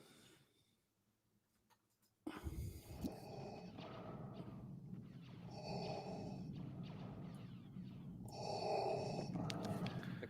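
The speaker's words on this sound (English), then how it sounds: "Darth Vader's breathing" Darth Vader's mechanical respirator breathing from Star Wars, slow loud rhythmic inhale and exhale cycles that start abruptly after a quiet moment and repeat about every three seconds.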